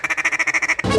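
Small duck quacking in a quick, even run of about ten short, nasal quacks, followed by a burst of broadband noise.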